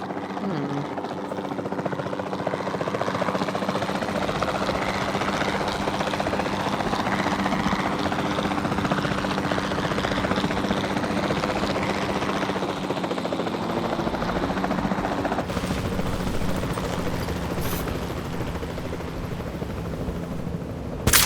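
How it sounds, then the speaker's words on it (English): Capture team helicopter in Jurassic World Evolution 2, a steady, loud, continuous rotor drone with engine whine holding evenly throughout, close and unbroken with no clear talk over it. "the sensible thing is to take a capture team helicopter"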